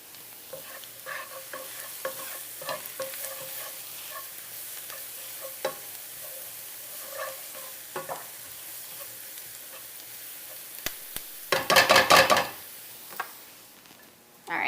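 Onions frying and caramelizing in a pan: a soft, low sizzle with scattered stirring clicks and scrapes, then a louder burst of hissing and scraping near the end.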